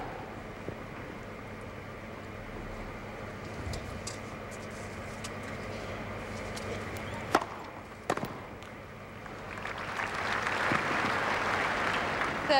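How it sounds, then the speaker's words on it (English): Polite applause rises from the centre court crowd at Wimbledon during a 2003 tennis match, starting faint and swelling into a soft, steady patter near the end after a couple of sharp ball strikes. "Polite applause here from this crowd."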